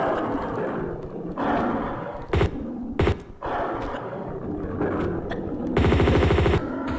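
Gunfire in the video game Tomb Raider II, with a couple of sharp single shots followed later by a loud, rapid machine-gun burst over a rumbling game background.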